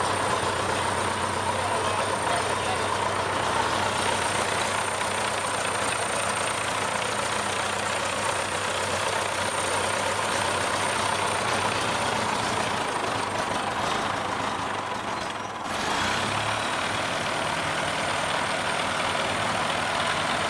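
A car engine runs at a steady idle just after starting while the choke is adjusted, a constant low hum with one brief dip in level near the end and no voices.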